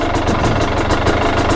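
A Husqvarna/KTM dirt bike fitted with a TSP ERM power kit idles steadily at close range, its engine putting out a loud, even, pulsing drone.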